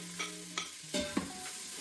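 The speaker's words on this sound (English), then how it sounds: "The oil's now hot, and I'll add the onions, and you can hear that sizzle" Onions crackling and sizzling in hot oil at low volume for Bolognese sauce, with a few scraping stirs and clicks over the steady fry.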